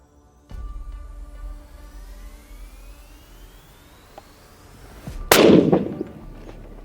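A Stevens 334 rifle fires a single sharp shot after several seconds of low background hum, the crack landing loud and abrupt before a short decay.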